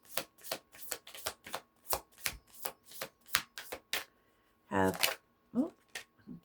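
Tarot cards are shuffled in a run of crisp, evenly spaced riffling snaps, roughly a dozen in quick rhythm, ending in a longer burst and a few soft taps, close and fairly quiet.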